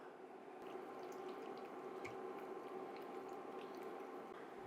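Chuck roast beef and its juices go back into a pot of ragu with soft, wet squishing and gentle liquid sloshing, faint and close with no voices.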